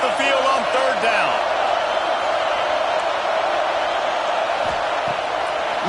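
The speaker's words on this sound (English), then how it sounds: "Here comes this home crowd as the defense tries to get off the field on 3rd down" A home crowd roars steadily in a college football video game, USC against Washington on a third-down defensive stand, a loud sustained wall of cheering with a commentator talking over it.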